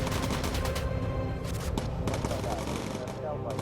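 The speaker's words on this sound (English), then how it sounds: "Stab him with a few rounds of ammunition, Hugh." Rapid bursts of gunfire as a gunner shoots at an enemy aircraft in the Bomber Crew video game. The crackling volleys run almost continuously and loudly, over a dense bed of in-game sound.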